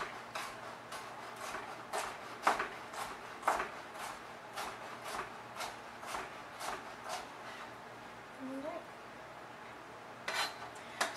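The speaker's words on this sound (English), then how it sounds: "Lay them all on their side and mince like such." A knife minces slivered vegetables on a cutting board, making a steady run of sharp, close taps, about two per second, over a low background hum.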